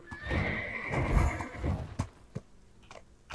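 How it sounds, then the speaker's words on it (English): Horse in the Black Desert Online video game lets out a loud, shrill whinny, then its hooves clip-clop in a few distinct beats as it sets off. "Come on, horse. Giddy up."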